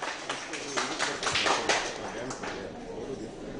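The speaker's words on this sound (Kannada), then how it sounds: "ಜೋರಾಗಿ ಚಪ್ಪಾಳೆ ಕೊಡೋಣ ಎಲ್ಲಾ ಈವೆಂಟ್ಸ್ ಗಳಿಗೆ" Audience applause at a church community festival, a broad wash of clapping with sharp claps standing out, swelling and then thinning toward the end, heard over crowd murmur.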